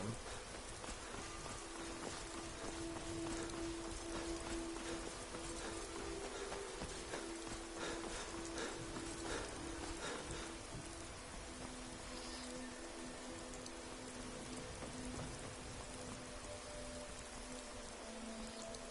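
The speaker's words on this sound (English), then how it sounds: "Do let me know if the rain is too loud" Steady, heavy rain pours on surfaces in the video game Skyrim, a dense unbroken patter at even loudness with faint tones underneath and no voices.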